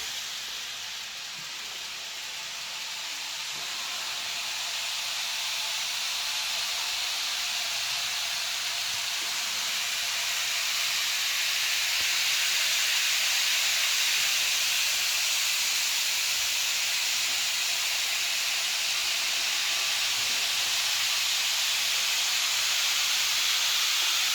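A model steam locomotive circling the helixes of a model railway layout gives a steady, smooth hissing rush that slowly grows louder and then holds level, with no one speaking.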